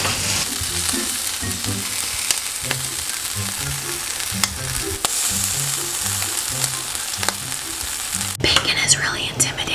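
Bacon frying in a pan crackles and sizzles loudly and steadily up close, with soft whispered speech underneath and a brief shift in the sound near the end.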